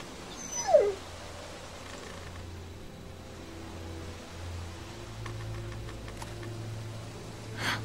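A dog in The Walking Dead Season 2 video game gives a short, high, rising whimper near the start, then quiet game ambience and a low steady hum carry on.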